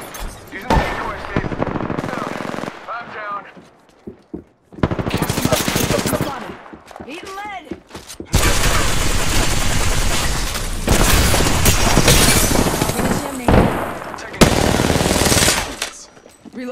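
Loud, close automatic gunfire in the video game Apex Legends comes in long sustained bursts, broken by short gaps and booms, with voices talking over the action.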